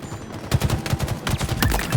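Gunfire in the Halo Infinite Oddball mode, a rapid burst of repeated shots in a dense rhythmic volley, loud and close throughout the two seconds.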